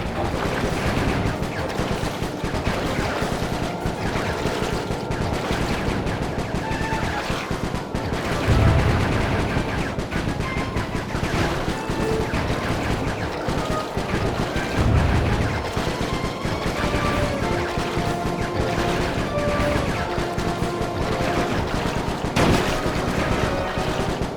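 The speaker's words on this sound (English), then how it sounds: "Nice shooting, Bentley." Rapid bursts of gunfire from Bentley shooting in Sly Cooper 3: Honor Among Thieves, dense and continuous over busy game action, with a couple of heavier thumps mixed in.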